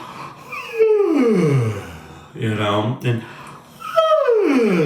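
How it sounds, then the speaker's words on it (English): A voice sings three sliding yawn-like sighs, each starting on a high pitch and falling smoothly down, with breathy pauses between them. "you can yawn by going on the high note"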